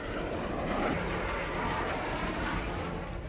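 Military jets, including Rafale, MiG-29 and Jaguar aircraft, fly past at the Republic Day Parade, a steady, broad roar of engine noise that holds at even loudness throughout, with no talking.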